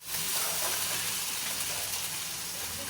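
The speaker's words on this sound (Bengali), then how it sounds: "এবার ভালো করে কষিয়ে নিক।" Spices sautéing in a pan for a homemade Bengali dinner give a steady, close, broadband sizzle that holds evenly throughout, with no talking.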